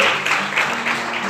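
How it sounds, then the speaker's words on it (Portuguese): A church congregation claps during a Portuguese-language sermon, a short burst of many hands applauding together in a reverberant hall. "Você pode aplaudir o Senhor e adorar a Deus. Aplauda o Senhor nessa noite."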